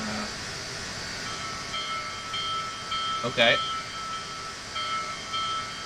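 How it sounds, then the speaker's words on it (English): Union Pacific Big Boy steam locomotive bell in Train Simulator 2021, ringing in faint repeated strokes over a steady hiss of rail ambience, with a brief spoken word in the middle. "So, let's hear the bell."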